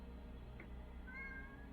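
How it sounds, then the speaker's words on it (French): A pet cat meows briefly and softly indoors near a desk, a short faint call with a slight rising tone, heard alone over a low steady room hum. "Oh, il y a mon chat"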